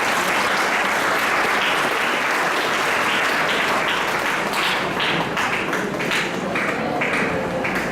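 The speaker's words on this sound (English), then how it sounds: "A round of applause, please" Sustained audience applause at a Japanese-Philippine conference on the urban redevelopment of Tacloban City, a dense steady wash of many hands clapping for about eight seconds with no voices over it.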